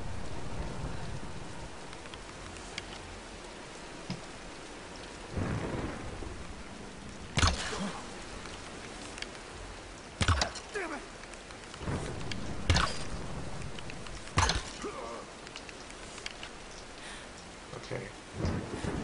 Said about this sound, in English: let's wait out the storm